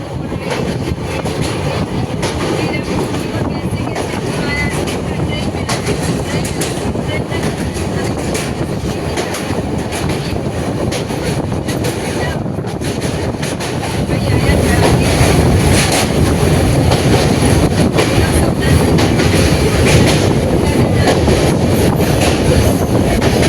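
A night train runs on its rails in a dense, loud, continuous rumble with faint clickety-clack and wind rushing past, growing a little louder partway through, heard from on board.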